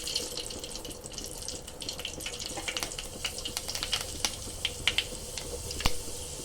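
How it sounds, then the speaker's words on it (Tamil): Fenugreek seeds sizzle and splutter in hot oil, a steady close crackle with scattered sharper pops that grow more frequent toward the end, with no voices. "வெந்தயம் பொரிஞ்சிச்சு."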